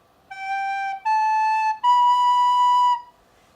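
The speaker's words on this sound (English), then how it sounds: "This is the sound of the recorder." A recorder plays three sustained, clear notes in a row, each a step higher than the last, with the final note held longest; close and solo, with no other sounds.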